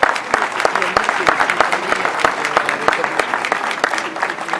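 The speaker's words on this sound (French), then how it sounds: "La petite équipe de Yannick, on va peut-être les applaudir un petit coup aussi" A small crowd at a black-and-white photography club exhibition claps steadily for a serving team, a dense, close burst of applause lasting several seconds.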